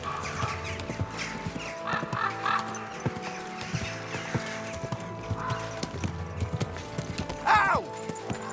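Close, rhythmic hoofbeats of a horse clip-clop in the medieval video game Kingdom Come: Deliverance II. They come in bursts over scattered background noise, with a brief higher animal call near the end.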